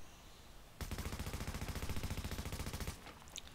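LW M4 rifle in The Division firing one continuous full-auto burst of rapid, regular shots for about two seconds, loud and close, ending with a faint tail.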